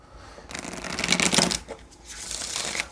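Oracle and tarot cards being shuffled by hand, a quiet start giving way to dense, close riffling and rustling that rises, dips and continues steadily to the end, with no talking.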